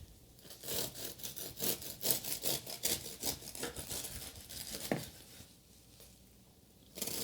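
A serrated knife saws through a crusty gluten-free loaf in quick repeated strokes, a crisp rasping rhythm up close, pausing briefly before a final cut.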